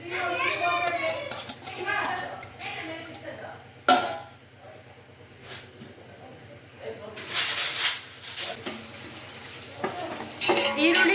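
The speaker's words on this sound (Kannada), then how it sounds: "ಈರುಳ್ಳಿ ಚೆನ್ನಾಗಿ ಫ್ರೈ ಆಗ್ತಿದೆ" Sliced onions frying in oil in a pan for Hyderabadi biryani: a soft sizzling hiss with occasional louder surges and scraping, clattering utensils, under a person talking.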